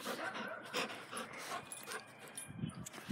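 A dog pants rapidly and close by, with short whimpers and snuffles mixed in. The sound stays fairly quiet and steady throughout.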